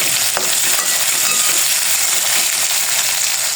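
Bitter gourd (karela) frying in a pan, a loud, dense, continuous sizzle heard up close with a faint scrape or clink early on and no talking.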